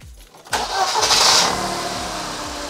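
A worn-out old car being repaired cranks briefly, then its engine catches and starts, surging loudly before settling into a steady idle close by.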